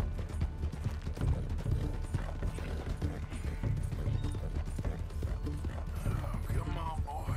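Horse hooves clip-clop steadily in Red Dead Redemption 2, a close, continuous rhythmic trot, with a brief whinny and some game noise near the end.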